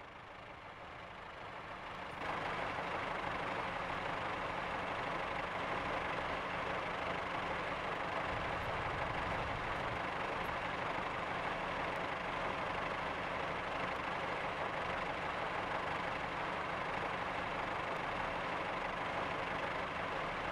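A Class 143 diesel multiple unit train drones steadily in Train Simulator 2017, rising in after a couple of seconds and holding a constant, throbbing hum with no talking.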